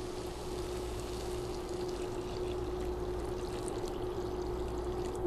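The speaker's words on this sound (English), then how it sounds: "so we're going to add the rest of the milk," Skim milk pours into a pan of barley risotto, a steady soft rushing pour with a constant hum, lasting the whole stretch with no talking.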